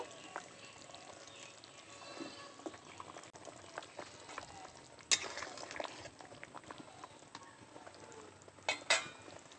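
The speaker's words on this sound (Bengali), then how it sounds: "ঝোল ভালো করে ফুটে গেছে।" A thin fish curry broth with potatoes and pointed gourd bubbles away in a pot, a soft, steady simmer of small pops and liquid churning, with faint clinks of utensils and two sharper metallic knocks near the end.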